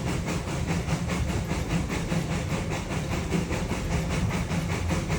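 The Puffing Billy steam train in Australia crosses a bridge: a continuous loud rumble of wheels and carriages with a faint repeating chug and a hiss above it, close by.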